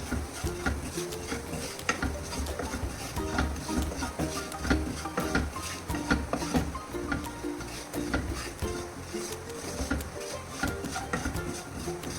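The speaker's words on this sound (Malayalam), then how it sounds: "ചൂടായിട്ട് എണ്ണ ചൂടായാലും നേരത്തെ പൊടിച്ച മസാലയെല്ലാം ഇടുക" Freshly ground masala frying in hot oil while a spoon stirs it steadily, producing a continuous soft sizzle punctuated by rhythmic scrapes and light clinks against the pan, close up and without any voices.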